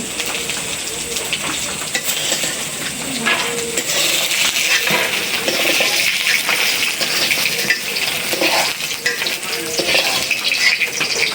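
Food fries in hot oil in a pan for rainy-day khichuri with bhorta, a dense continuous sizzle with repeated stirring and scraping of utensils against the pan throughout, fairly close and loud.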